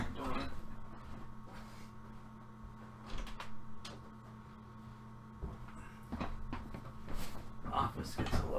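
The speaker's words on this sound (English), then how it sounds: "Alright, let me open the door." An office door is opened with a few soft knocks and clunks over a steady low electrical hum, with faint voices in the room.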